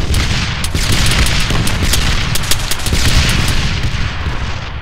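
Sustained enemy gunfire in the military shooter The Breach, dense cracking shots and booms rolling continuously over a loud battlefield rumble, with no talking.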